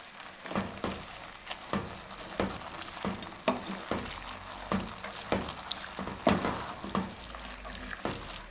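Dal with garlic-ginger paste, cinnamon, cloves and black cardamom being stirred in a pot, a soft sizzle under a regular series of scraping spoon strokes about once a second, with no talk.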